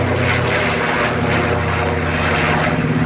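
A B-25 Mitchell twin-engine propeller bomber at an airshow, its piston engines producing a loud, steady, throbbing drone that fills the whole stretch without any talk.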